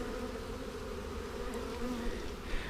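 A honeybee swarm fills the air with a steady, dense buzzing hum that holds level throughout, close and continuous with no voices.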